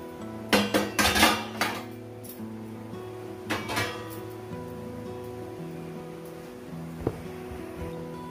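A utensil stirring flax seeds, sesame, curry leaves and salt in a pan for millet idli podi, with a few sharp metallic scrapes and clanks early on, then a steady low hum with occasional clinks.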